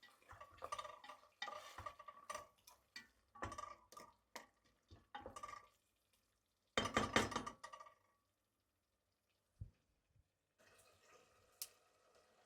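A spoon stirs bone broth lentil soup in a pot, giving bursts of scraping and knocking against the pot separated by pauses, then a few faint clinks near the end.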